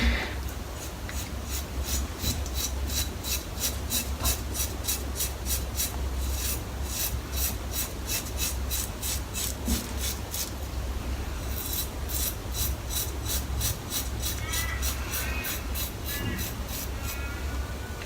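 Aluminium-headed shaving brush working soap into a lather: brisk, rhythmic swishing and rasping strokes, close-up and unbroken, with a few short pauses between bursts.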